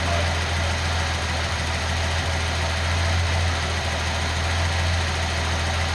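A Nissan L28ET turbo engine idles smoothly and evenly after a misfire fix, a steady low rumble holding a constant drone without breaks.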